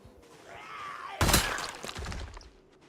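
A sudden burst of gunfire from a zombie video game cracks out after a quiet stretch and then trails off over a few seconds, with a low rumble and a faint whine beforehand.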